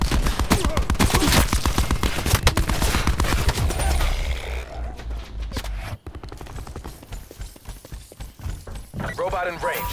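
Gunfire in a Black Ops 4 Safeguard match, rapid automatic bursts dense at first and then thinning out, loud and close, with game voices talking over them.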